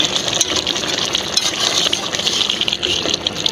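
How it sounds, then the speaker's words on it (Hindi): Mutton sizzles in ghee in a karahi, a steady loud hiss and crackle of frying for street-style Peshawari charsi karahi, continuous throughout with no talk. "अब हम इसको 10 मिनट के लिए भूनेंगे।"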